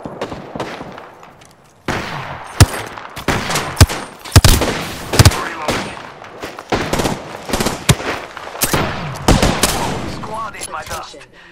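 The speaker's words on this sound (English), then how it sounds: "Getting shot at." Rapid gunfire in a battle royale video game, bursts of loud cracking shots in quick clusters over several seconds, some louder and nearer than others, with in-game voice lines and effects mixed in.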